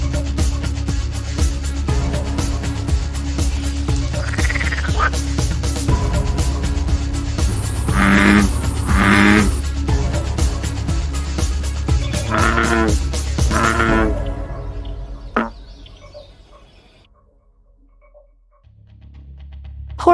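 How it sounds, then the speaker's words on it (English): A frog croaks in repeated raspy bursts over a loud steady background hum, the calls coming in clusters and then fading, leaving near quiet with a couple of sharp clicks. "Frog."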